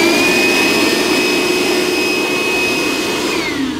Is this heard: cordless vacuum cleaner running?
yes